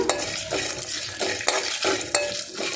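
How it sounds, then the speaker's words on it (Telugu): Cashews frying in hot oil while cooking a bitter gourd stew, a steady soft sizzle broken by several clinks and scrapes of stirring in the pan, close and moderate, no speech. "ఇగో జీడిపప్పు వేస్తున్నా"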